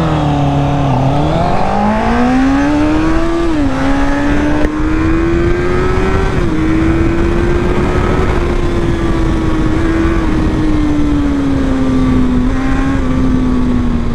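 A Chinese sport motorcycle being ridden, its engine droning loud and close with a steady pitch that climbs early on and then holds at cruising speed the whole way through.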